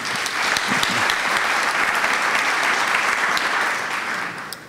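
At a novel launch, the audience at a book presentation claps in a full, steady round of applause that carries on without a break and eases off slightly at the very end.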